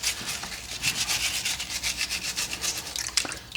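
Brisk rhythmic scrubbing of freshly harvested ginger root, a steady series of close, rasping brush strokes working around its nooks and crannies, with no talking.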